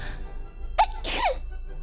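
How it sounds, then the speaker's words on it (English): A woman lets out a single close sneeze, a sharp high-pitched burst with a brief second peak, standing out clearly against near-quiet room noise. "Oh, I have to sneeze."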